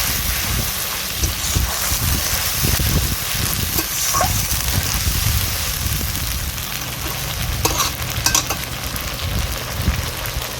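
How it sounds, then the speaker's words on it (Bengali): Onion paste sizzles in hot oil in a pan while it is stirred, as the base for chicken maharani. A steady bright frying hiss carries throughout, with occasional scrapes and clinks of the utensil against the pan. "এবার এতে আমি দিয়ে দেব পেঁয়াজ বাটা দিয়ে দিচ্ছি পেঁয়াজ বাটা ভালো করে নেড়ে চেড়ে নিচ্ছি"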